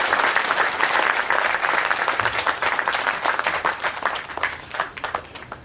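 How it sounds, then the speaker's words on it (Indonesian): An audience at a community gathering claps together in a sustained round of applause, loud at first and then thinning toward the end, with a few scattered individual claps standing out. "Tepuk tangan semua teman-teman sekalian untuk cinta kita bersama."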